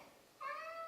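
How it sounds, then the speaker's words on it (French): A domestic cat lets out a single clear meow, wanting to be let outside, starting after a brief quiet moment and held close and fairly strong. "je suis allée répondre aux besoins de mon Minet qui était insatisfait. En fait, il voulait sortir"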